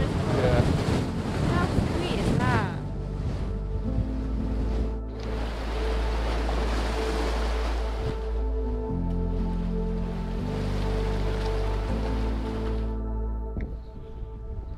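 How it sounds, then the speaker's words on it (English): Strong wind buffets the microphone in a continuous low roar, with a faint voice briefly heard at the start. "Probably can't hear us very well, it's very windy."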